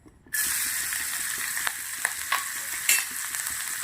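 Chopped garlic, ginger and chillies hit hot oil with a sudden loud sizzle that carries on steadily, with faint scraping and stirring clicks throughout.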